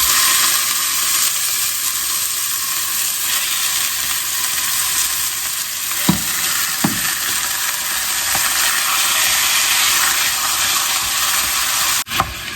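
Ground beef and pork frying in olive oil in a pot for a Bolognese sauce, giving a loud, steady, close sizzle throughout with a few brief clinks and knocks as the meat is stirred.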